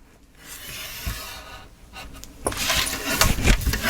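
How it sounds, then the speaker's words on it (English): A pen or pencil draws a line across a photo album page, soft scratchy rubbing strokes close up, growing louder and busier toward the end, no voices. "And I'm going to draw my line."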